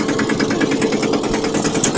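Steady, close tractor engine running with an even, rapid mechanical chug and no talking.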